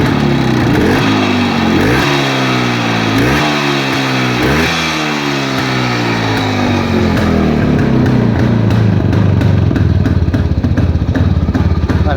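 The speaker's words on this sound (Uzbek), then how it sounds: "Mana gaz berib ko'raman, motorlarga quloq solib ko'rasiz." A loud, close motorcycle engine revs up and down repeatedly, then settles into a sustained, rough high-pitched roar.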